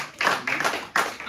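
Congregation clapping in a church service, a quick burst of several sharp, close handclaps in uneven rhythm over about a second.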